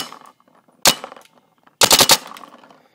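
Two bursts of sharp pneumatic shots from a custom Tippmann 98 paintball marker, a single pop followed by a quick rapid string of several shots, close and loud.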